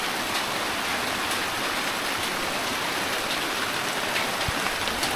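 Heavy rain pours down in a dense, continuous hiss at a tree house build site, steady and loud with no gaps.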